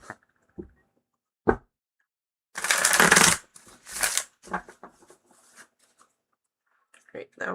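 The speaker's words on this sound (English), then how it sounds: "that was a beautiful shuffle" A tarot deck is shuffled during a live reading, giving a dense riffling burst and then a shorter one, with scattered taps and card clicks around them and a voice speaking briefly near the end.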